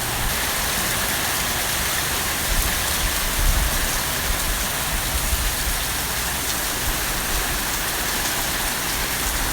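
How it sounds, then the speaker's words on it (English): Heavy rain pours down during a Florida thunderstorm, a continuous loud hiss of drops on surfaces filling the whole stretch with a few deeper rumbles underneath and no talking. "there is an amazing like storm happening because it's Florida and we do storms."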